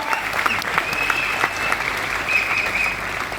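An audience applauds steadily, a dense patter of many hands clapping at an even level throughout with no pauses.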